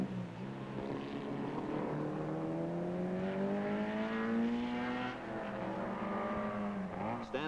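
Race cars from 1962 racing at Mosport circuit, a high engine note rising steadily in pitch as a car accelerates past and then drops away, with another engine joining near the end, moderately distant.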